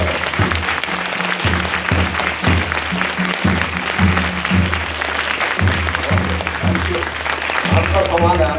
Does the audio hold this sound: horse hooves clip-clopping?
no